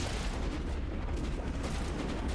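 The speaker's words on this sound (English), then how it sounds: "You got your Mako with your rockets and your machine gun." Rockets and machine gun fire from the Mako vehicle in the video game Mass Effect, heard as dense, continuous booming gunfire with heavy low rumble throughout, loud and with no talk.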